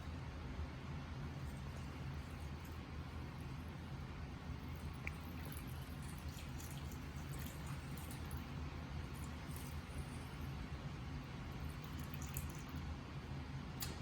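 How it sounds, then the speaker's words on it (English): Water poured slowly and continuously into the sand-filled gap between an inner and outer clay pot of a zeer pot cooler, a soft, steady trickling wash throughout with occasional faint drips. "slowly pour water in a continuous motion in this area between the inner pot and the outer pot"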